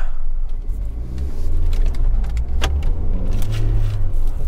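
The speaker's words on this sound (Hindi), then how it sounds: "first gear, revving the motor" A Hyundai i20 engine revs up from idle in first gear with a low, steady rumble that swells and holds, heard close by with no talking.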